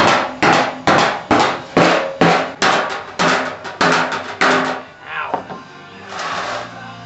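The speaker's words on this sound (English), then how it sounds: "take this dolly and this rubber mallet and try to push out some of the" A rubber mallet and dolly beat dents out of a rear fender in a steady series of about a dozen loud, close blows, slowing and softening toward the end.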